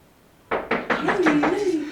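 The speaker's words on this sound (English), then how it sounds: "How can somebody be knocking by this time?" Rapid knocking on a door at night, five or six sharp raps in quick succession, loud and close, with a voice talking over the later knocks.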